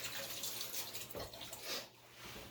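Hands washed under a running kitchen tap during Thanksgiving cooking, a soft steady stream of water with brief splashy changes as the hands move, fairly quiet and with no talk.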